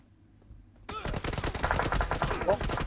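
Gunfire in PUBG Mobile breaks out suddenly after near silence, a rapid burst of many loud, close shots that keeps going, with a voice talking underneath.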